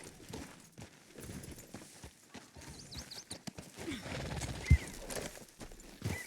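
A horse in the video game Red Dead Redemption 2 walks along with soft, intermittent hoof clip-clops, quiet and close, with a brief louder thump near the end and no talking.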